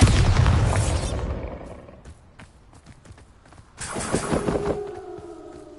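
A Bombarda blast spell from Hogwarts Legacy bursts loudly at the start, a broad roaring boom that fades over about two seconds, followed by quieter clatter and a second swell of magical noise near the end.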